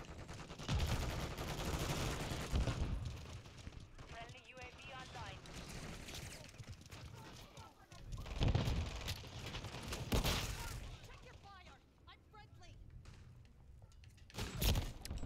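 Shotgun blasts and other gunfire crack in an online Call of Duty match, loud bursts at irregular moments with quieter stretches between, mixed with game noise and some talking.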